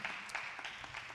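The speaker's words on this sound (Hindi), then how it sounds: "और जोरदार तालियां म्यूजिक ग्रुप के लिए।" An audience at a worship evening claps for a music group, a dense, fairly faint patter of applause over a brief moment.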